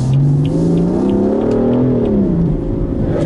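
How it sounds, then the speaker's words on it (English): A 2015 BMW M4 Convertible's straight-six engine grumbles steadily and close by, its pitch rising and then easing back over a few seconds, with no talk over it. "You hear a little bit of the grumble of the engine sound as we do that"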